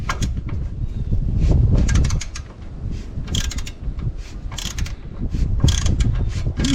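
A bolt being worked out of a hydraulic assembly, with close metallic ratcheting clicks and scraping in irregular bursts over a steady mechanical background.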